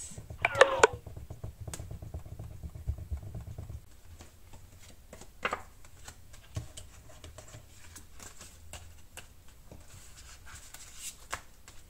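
A rubber eraser rubs out pencil marks on a paper budget envelope card, making close, brisk scrubbing strokes for a few seconds, followed by quieter handling and paper rustles.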